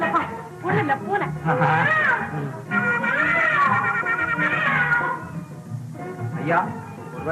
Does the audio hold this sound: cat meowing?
yes